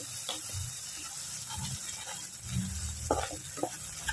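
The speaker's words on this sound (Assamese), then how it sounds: "আৰু কিছু সময়ৰ কাৰণে এইখিনি ভালকৈ ভাজিম" Spinach paste for palak paneer fries in oil in a pan with salt, giving a soft continuous sizzle broken by scraping spoon strokes.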